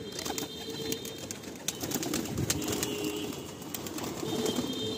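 Madrasi pigeons coo at a loft, soft overlapping low calls repeating through the scene amid faint bird chatter and light background noise, with no talking.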